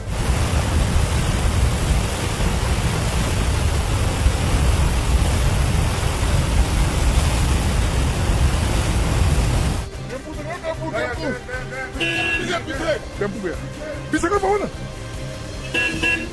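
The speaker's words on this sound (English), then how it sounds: "records torrents of ice and water that surge downriver due to the collapse of an ice dam" A torrent of ice and water surges downriver after an ice dam collapses, making a loud, dense, continuous roar for about ten seconds before cutting abruptly to a quieter scene with scattered voices and sounds.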